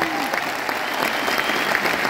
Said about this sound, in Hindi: दिल खोल के ताली बजा दो अपने यार